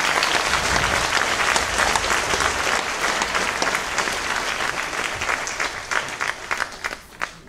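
An audience at a spring brass band concert applauds loudly, dense clapping that slowly thins toward the end into a few scattered, separate claps.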